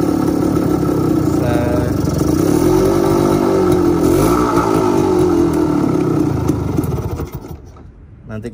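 A vintage motorcycle engine runs close by with a steady, throaty rumble and some mechanical clatter, then drops off near the end.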